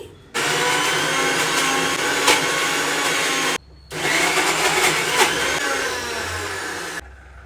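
A mixer grinder whirs loudly while blending boiled dal with cardamom and cinnamon, running in two steady bursts separated by a brief pause, then stopping abruptly.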